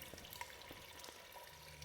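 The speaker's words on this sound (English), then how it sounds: "Water going down the drain out here." Water running down a drain in a rainy outdoor setting in Garry's Mod VR, a steady, faint splashing trickle with soft irregular drips throughout.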